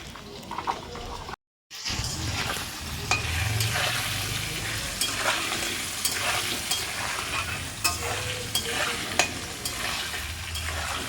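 Potatoes fry in a pan with a steady close sizzle, punctuated by scraping stirs and utensil clicks, with a brief silent gap near the start.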